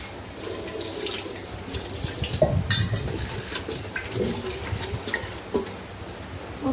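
Fresh coriander and curry leaves washed by hand under a running kitchen tap, a continuous splashing water stream with occasional knocks of a vessel against the sink, close by and without talk.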